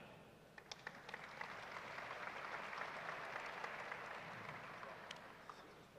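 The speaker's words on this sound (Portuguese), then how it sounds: "Uma salva de palmas," Sustained audience applause at the opening ceremony of a mining expo, a broad wash of clapping that swells and holds for several seconds, heard at a distance in a large hall.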